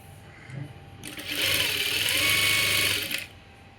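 A sewing machine stitches the joined cloth of an umbrella frock in one steady burst of about two seconds, loud and close, after a quieter lead-in of handling.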